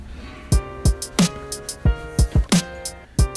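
A drum and piano pattern programmed in Beatmaker 3 plays back with punchy kick and percussion hits in an uneven groove under sustained piano chords.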